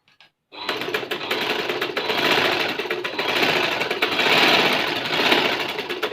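A sewing machine runs steadily, stitching joint lace onto fabric for a sleeve and daman design. After a brief quiet start it becomes a close, continuous mechanical whir with fast rattling needle strokes and no talking.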